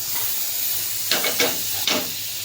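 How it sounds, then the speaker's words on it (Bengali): Butter sizzles in a hot karai, a steady, fairly loud hiss with a few sharper spitting bursts in the middle, with no voices. "কড়াই বসিয়ে দিয়েছি, গরম হয়ে গেছে। এখানে আমি বাটার দিয়ে দেবো।"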